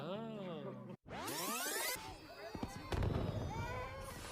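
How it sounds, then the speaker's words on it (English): Fireworks bursting during a film scene: sharp pops and crackling explosions with whistling rises, loud and overlapping with background music. "while fireworks are going on"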